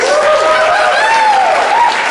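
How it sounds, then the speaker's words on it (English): Students at a campaign rally for Bernie Sanders applaud themselves, a dense, steady wash of clapping that stays loud and even throughout, with a whistle-like tone sliding over the crowd noise. "give yourself a round of applause"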